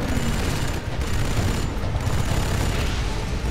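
Dense, continuous gunfire and booming explosions from units in the Command & Conquer 3 Tiberium Wars video game form a steady, loud battle din with no pause.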